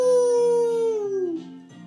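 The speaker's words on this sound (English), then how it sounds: "Pluto barked in agreement." A cartoon dog howls in a story sound effect, one long sustained drawn-out note that slowly slides downward, loud and close, followed by a couple of short softer yips.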